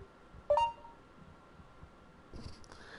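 A phone gives a short, sharp double beep as an app opens on its own, one clear near chirp followed by quiet rustle and a faint later sound.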